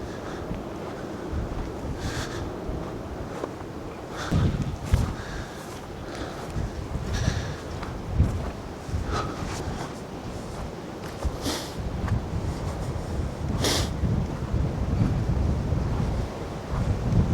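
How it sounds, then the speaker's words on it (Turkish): Strong wind gusts roar and buffet the microphone continuously, with surges and occasional rustling bursts, and no voices. "Rüzgar var."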